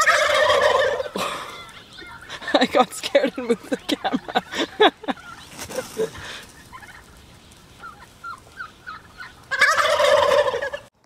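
A turkey gobbles loudly at the start and end, with a rapid burst of clucking gobbles in between and a person speaking briefly.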